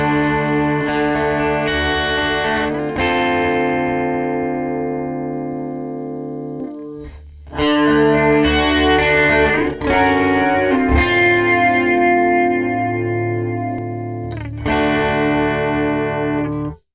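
Distorted electric guitar chords ring out through a Fractal Axe FX III with a stereo delay whose right channel is phase-inverted, sustained strums with echoing repeats separated by brief gaps, loud and close with no talking.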